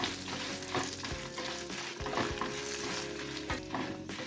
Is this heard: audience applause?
no